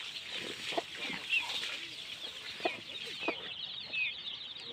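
A mother hen clucks softly among her brood of Hmong chicks, the chicks peeping constantly in high, thin chirps, with occasional louder clucks breaking through the busy farmyard chatter.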